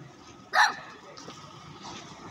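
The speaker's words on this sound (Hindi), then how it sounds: "बेबी इसको कैसे भौंक रहा है" A single sharp bark from an Australian Kelpie out on a morning walk, loud and near, followed by fainter yips and outdoor background noise with a person speaking softly.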